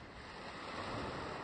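Sea waves at sunrise on the Ligurian coast make a soft, steady wash of surf. Faint wind runs through it, and no voices are heard.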